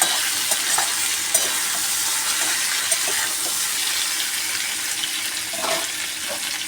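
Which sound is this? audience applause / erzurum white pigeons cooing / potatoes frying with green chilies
potatoes frying with green chilies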